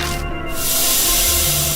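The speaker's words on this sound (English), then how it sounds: "There's a faint bubbling noise and smell that" In the video game Death Mark, acid eating into a metal wire gives off a loud continuous hissing fizz, with a brief dip near the start before the steady sizzle resumes and holds.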